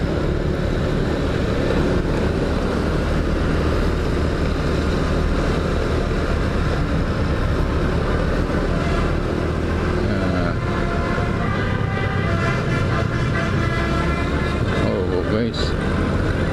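Loud, continuous street traffic on Jalan Jakarta in Bandung, with a noisy bus rumbling close by and a steady engine drone throughout; a voice talks over it briefly.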